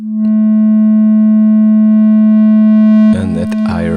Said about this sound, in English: the VCA is a parallel distortion with a feedback loop